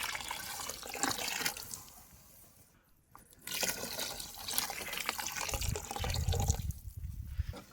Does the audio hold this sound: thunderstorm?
no